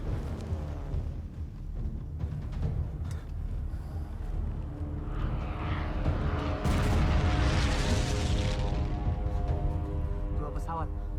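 Aircraft flying overhead in a war scene from an Indonesian historical film about the 1947 air force struggle: a steady low drone that swells into a broad rushing pass around the middle, under dialogue and dramatic music.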